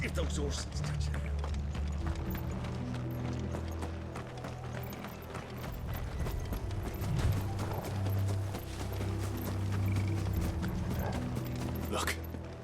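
Horses' hooves clip-clop steadily in the video game Final Fantasy XVI, mixed with creaking wooden and mechanical rattles while people talk over the scene.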